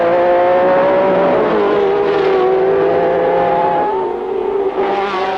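1967 Formula One race cars at the German Grand Prix charge past over the Flugplatz bump, their engines a loud, continuous, high-pitched howl that rises and falls as the leaders run close together.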